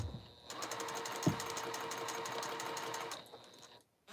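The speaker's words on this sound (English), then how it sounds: "Line up that middle seam and sew." A sewing machine stitching 2.5-inch quilt squares together, a steady close mechanical whir for about three seconds that then stops, no talk.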